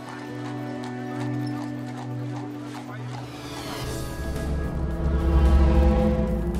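Horses gallop in a traditional Portuguese flat race at Trofa that counts toward the national championship. Their hoofbeats build into a steady, louder drumming, with voices and background sound running over it.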